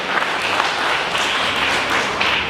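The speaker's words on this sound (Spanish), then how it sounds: "vamos a dar un fuerte aplauso a estos jóvenes" A crowd claps loudly and continuously for young participants at a church youth event, a dense, even wash of applause heard up close.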